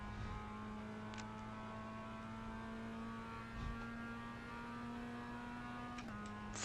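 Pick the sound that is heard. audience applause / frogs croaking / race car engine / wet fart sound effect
race car engine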